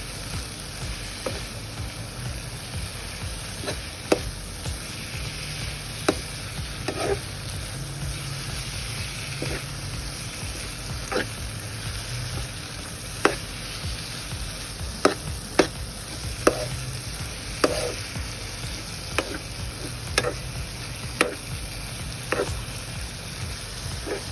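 Vegetables cooked with turmeric, chilli powder and salt for a vegetable biryani are stirred in a pan. A steady sizzle runs under regular sharp clinks and scrapes of a utensil against the pan, and no one talks.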